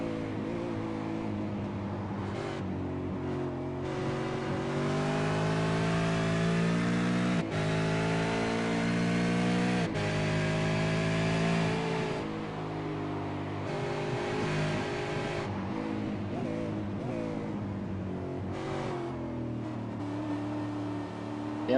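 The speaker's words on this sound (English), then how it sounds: "I was just listening to the engine out of that last turn." V8 Supercar engine on an onboard lap at Mosport Park, a loud, sustained V8 roar with rising and falling revs and brief breaks at gear changes, heard close and continuously.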